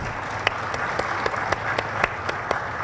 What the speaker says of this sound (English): ask you to give them a round of applause